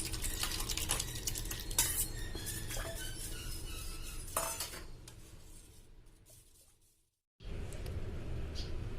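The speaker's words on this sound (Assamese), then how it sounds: "এতিয়া বেসনখিনি প্ৰথমতে পানী লগত গুলি ল'ব লাগিব এতিয়া দৈখিনি ইয়াৰ লগত মিলাই দিম" Yogurt stirred into a batter of gram flour and water for dahi pakora kadhi, heard as steady close spoon scraping and clinking against a bowl that fades, stops briefly, then resumes.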